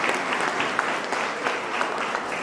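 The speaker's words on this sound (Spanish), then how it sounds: "un aplauso para la niña" Applause from a church congregation for a young girl, a steady dense patter of many hands clapping close by, sustained evenly throughout with no voices over it.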